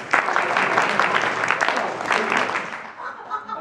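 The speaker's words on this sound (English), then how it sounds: "Clap that with me." A group claps along to a rhythm for a biology rap about the 16S ribosomal small subunit: dense, continuous clapping at close to mid distance, fading slightly toward the end.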